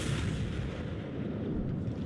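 Naval gunfire from a ship's after turrets in World of Warships, heard as a sustained, rumbling low boom that fills the whole stretch at moderate level, with no talk.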